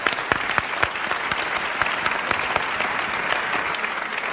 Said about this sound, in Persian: ماشاءالله، تشویقش کنیم